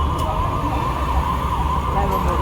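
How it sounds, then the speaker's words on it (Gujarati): A fire engine siren sounds at a truck fire on an overbridge in Deesa taluka, a steady loud wail mixed with traffic and crowd noise while people talk nearby. "લાઈવ બંબો હે"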